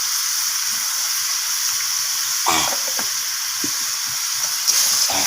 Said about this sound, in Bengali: তো সমস্ত কিছুকে নাড়াচাড়া করে এইভাবে কষিয়ে নিচ্ছি।